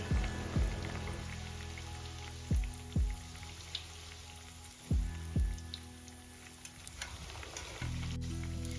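Malpua deep-fries in hot oil in a pan with a steady, close sizzle. A few sharp clinks of a utensil break in now and then.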